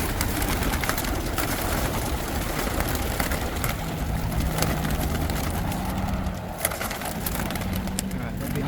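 Racing pigeons held in a van before release give soft, scattered coos and shuffles over a constant low rumble, with occasional light knocks and a faint voice in the background.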